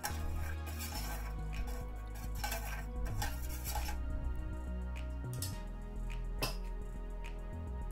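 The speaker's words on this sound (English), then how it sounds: "add 2 spoons of yogurt into the milk and mix well" Spoon stirring yogurt into warm milk inside an Instant Pot, with steady clinks and scrapes against the metal pot over a constant low hum, close and fairly loud throughout, a sharper clink near the end.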